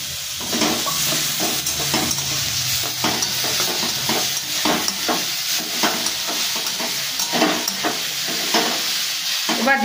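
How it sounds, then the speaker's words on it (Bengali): Fried lentil dumplings are stirred into sautéed greens in a pan, giving a steady close sizzle with repeated scraping stirs and no talk. "এবার আমি ভেজে রাখা বড়িগুলো শাকের মধ্যে দিয়ে দেবো।"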